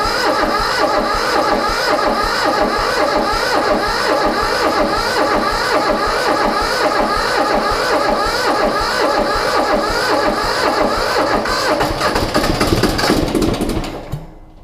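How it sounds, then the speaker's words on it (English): An old G154 engine, freshly honed with new piston rings, turns over on the starter in a steady rapid rhythmic chug that stays loud and close for about thirteen seconds before cutting off abruptly. "We're just going to turn it over a few times just to see how it sounds."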